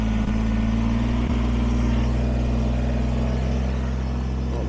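A Kubota BX23S sub-compact tractor's engine runs loud and close with a steady low drone, the throttle held high and even throughout with no one talking.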